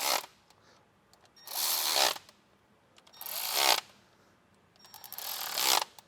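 A non-Fuel Milwaukee power driver runs small injector bolts on a 2001 Dodge Cummins in three short, loud bursts of whirring, with near-silence between them.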